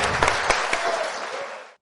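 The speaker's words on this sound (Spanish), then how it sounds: "Recibamos con un fuerte aplauso a nuestro invitado de honor, Javier Milei." A crowd at a talk on liberalism versus socialism greets guest of honour Javier Milei with a short burst of clapping, a few distinct claps within a dense wash that cuts off after under two seconds.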